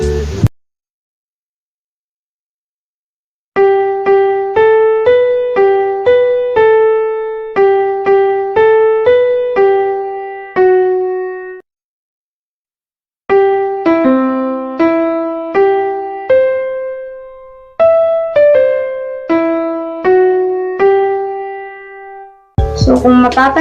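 Two short melodies on a clean, bell-like synth tone, separated by silence: first a conjunct melody moving in small steps, then a disjunct one jumping between notes, each plucked note decaying quickly.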